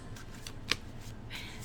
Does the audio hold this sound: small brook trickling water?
no